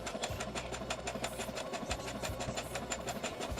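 A sewing machine stitches two bandana strap pieces together, running at a fast, even rhythmic clatter close by, with a brief hitch partway through and no voices.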